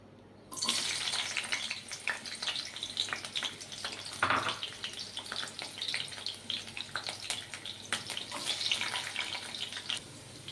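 Capsicum dropped into hot oil for tempering sets off a steady, close sizzle and crackle that starts suddenly and continues unbroken, with no talking.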